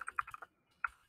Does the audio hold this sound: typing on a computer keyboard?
yes